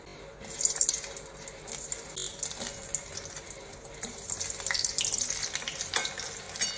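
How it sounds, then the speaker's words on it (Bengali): Paneer pieces getting a second frying in hot oil to make them crispier for Paneer 65, giving a soft, steady bubbling sizzle with occasional louder crackles and stir sounds, with no voices. "এগুলো ভাজা হয়ে গেছে, কিন্তু আরো ক্রিস্পি করার জন্য আমি দ্বিতীয়বার আরেকবার তেলে দেবো।"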